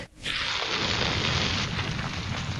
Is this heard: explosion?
yes